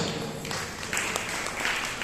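Audience applause at a Jain monk's religious discourse, a brief dense patter of clapping from a crowd, moderately loud and continuous.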